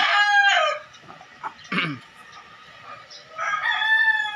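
A farm rooster near a homemade egg incubator crows loudly and close by, twice, with a quiet stretch and faint clucks between the crows.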